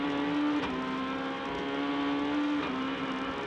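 A Renault Clio S1600 rally car accelerates hard on a rally stage, its engine droning loud and steady with a rising pitch, easing briefly twice as it shifts, with no voices over it.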